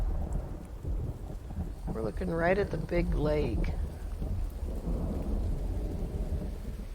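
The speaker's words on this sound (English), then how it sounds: "Doesn't look that great in the rain." Steady rain and a low rumbling thunderstorm in the video game The Infected, a continuous wash of rain under a deep rolling rumble while someone talks over it.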